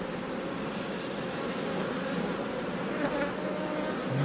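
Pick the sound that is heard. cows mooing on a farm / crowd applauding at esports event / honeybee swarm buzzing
honeybee swarm buzzing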